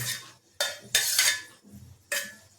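A spoon scraping and clinking against a metal pot as sev is stirred into a shev bhaji curry, four distinct strokes close up with short pauses between.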